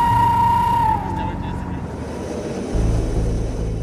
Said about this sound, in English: Over on the runway, one squadron has just landed.